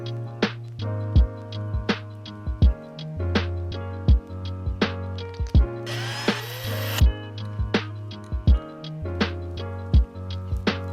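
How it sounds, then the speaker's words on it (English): A 4mm Allen key working the bushing retaining screws out of an electric skateboard module: a steady run of close, crisp ratcheting clicks, with a brief harsher scraping burst partway through and a low mechanical tone underneath. "Use a 4mm Allen key to remove the bushings retaining screws"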